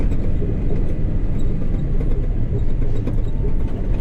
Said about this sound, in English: You gotta use four-wheel drive to get the trucks up here.